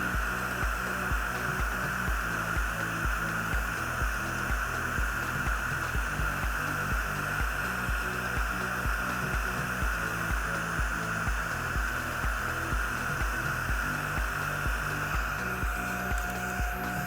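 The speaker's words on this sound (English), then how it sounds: "Before she opens, I'm gonna fan her a little bit just to make sure she's completely dry." A small handheld fan drying freshly applied eyelash extensions, a steady close whirring hum with a fast throbbing pulse and a soft hiss throughout, no talking.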